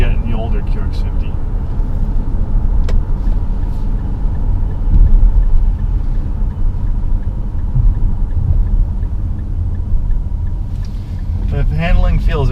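A 2019 Infiniti QX50's four-cylinder variable-compression engine drones steadily and low while the SUV is driven, heard as a constant rumble of engine and road noise from inside.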